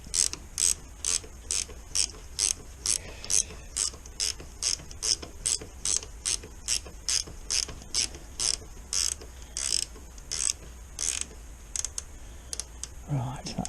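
A ratchet wrench on a ZX10B motorcycle's oil lines clicks in a quick, steady run of sharp ticks for over ten seconds, close by, with a brief low thud near the end.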